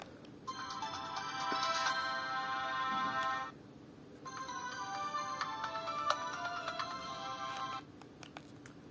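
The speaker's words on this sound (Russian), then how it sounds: "Есть встроенные рингтоны медийные, тоже более интересные" A built-in melodic ringtone plays from a Siemens C72 mobile phone, two bright synthesized phrases of about three seconds each separated by a short pause, clear and fairly close with faint background hiss.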